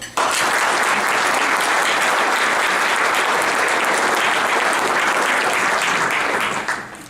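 A live audience applauds steadily at a presentation to the Wine Council in Toronto, greeting speaker Ian Baillie; a dense, sustained wash of clapping that starts abruptly and fades slightly near the end, with no voices over it.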